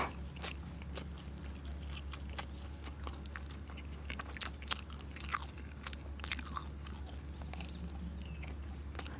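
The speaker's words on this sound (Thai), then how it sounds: "แป้งกรอบเลยอะ" Crisp bites and chewing of thick, crunchy pizza crust eaten plain, heard close up as a series of sharp crunches over a steady low hum, with no speech.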